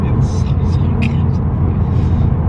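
A Toyota GR Yaris engine rumbles low and steady while driving, a constant close drone that fills the whole moment without breaks.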